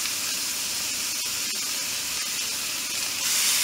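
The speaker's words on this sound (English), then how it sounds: "So we're adding our hamburger meat." Two pounds of hamburger meat hitting a hot pan, giving a loud, continuous sizzling hiss that swells slightly near the end, with no talking.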